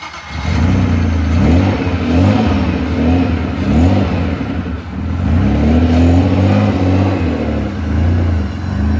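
A Toyota T18 Corolla engine runs close up and revs repeatedly, its pitch climbing and falling in a series of rough, loud pulls over a steady idle, no talking.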